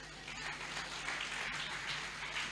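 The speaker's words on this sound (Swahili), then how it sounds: "Piga makofi juu pastor anakuambia wewe." A church congregation claps together in a steady burst of applause, moderately distant and filling the short stretch on its own.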